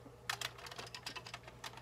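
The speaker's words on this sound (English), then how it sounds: "now I can go back to messing with the keyboard on the 64" Typing on a Commodore 64 keyboard, with a quick irregular run of close, clacky keystrokes over a low steady hum.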